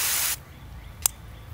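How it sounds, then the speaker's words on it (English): A Gardenite garden hose sprayer shoots water in a loud, broad hiss for a moment and then cuts off, leaving quiet room tone broken by one short click. "we got a shower spray, and this would be a scatter, a cone"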